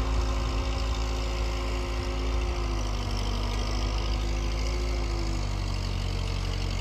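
A half-track tractor engine runs in the snow with a steady, rumbling low drone, idling or working evenly throughout without voices.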